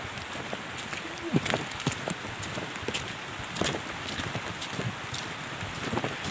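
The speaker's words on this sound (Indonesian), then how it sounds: "Kondisi hujan nih teman-teman ya." Steady rain pours outdoors by a river on an extreme rural track to an oil palm plantation, a dense hiss with scattered nearby drops pattering on surfaces and a faint rumble underneath.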